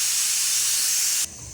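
A pressure cooker whistle releases steam while dal cooks for dal dhokli. A loud, close, continuous hiss runs for over a second and then cuts off abruptly.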